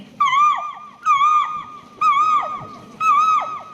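A voice mimics a cuckoo with four clear, whistled calls spaced evenly about a second apart. Each call rises and then falls, close and loud against a quiet background, as in a school mimicry act.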